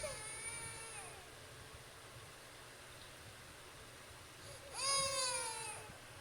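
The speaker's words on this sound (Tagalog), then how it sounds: "Yung pusa, no?" A cat meows twice with drawn-out, wavering cries: one at the very start and a louder, nearer one near the end, with a quiet stretch between and no talking.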